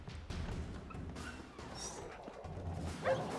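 Dogs bark and yip in The Witcher 3, faint and distant against a low ambient game backdrop, with scattered irregular barks throughout.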